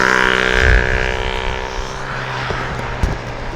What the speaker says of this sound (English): Got another aircraft on the approach